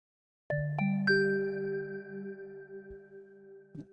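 A Surge XT FM synth bell tone strikes three times in quick succession, then rings out in a long, shimmering, modulated reverb tail with a faint final tap.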